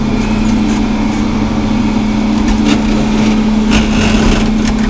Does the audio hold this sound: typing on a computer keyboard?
no